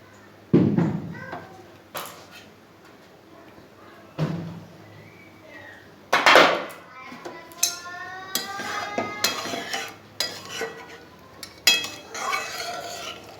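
Pot of shol fish curry with taro and potato handled and covered with a lid, several sharp metallic knocks and clinks spaced out under intermittent talking, close by.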